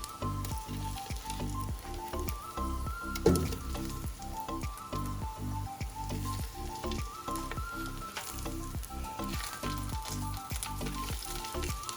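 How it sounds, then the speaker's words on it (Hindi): Hot oil tempering with green chillies crackles and sizzles continuously as it is poured into kadhi, a busy popping hiss that stays fairly even throughout. "जल्दी गरम गरम उसमें डालें तो देखें कैसी छुन छुन की आवाज़ें आती हैं।"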